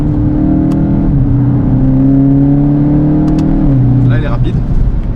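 Volkswagen Golf 8 GTI Clubsport 45 accelerating hard with its DSG gearbox, a loud, steady engine drone that steps down in pitch at two quick gear changes, with a brief voice near the end.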